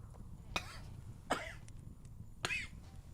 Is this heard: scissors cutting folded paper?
no